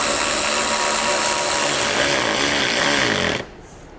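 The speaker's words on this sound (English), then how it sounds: "we'll get our screws put back in" A power tool whirs loudly and steadily for about three seconds, its pitch wavering as it drives screws into the front fascia of a 2011 Chevrolet HHR, then cuts off abruptly into near silence.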